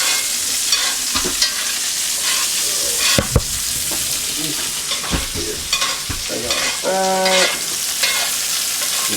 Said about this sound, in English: give that butter, give that garlic flavor